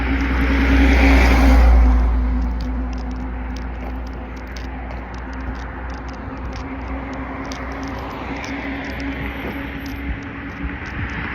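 Steady road traffic drones on, with a louder vehicle rushing close by early on and a continuous rumble of cars passing afterward.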